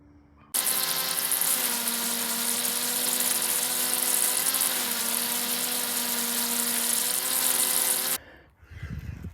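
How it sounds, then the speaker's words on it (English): A Worx WG430 shredder runs while shredding pine needles, starting abruptly into a steady, loud high motor whine for about eight seconds before cutting off to quiet rustling. "I'm gonna shred some more pine needles."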